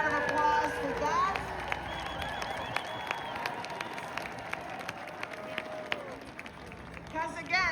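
A rally crowd outside the Minnesota State Capitol claps and cheers at moderate distance, while whistles and shouts rise over the sustained applause.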